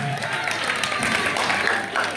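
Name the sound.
audience applause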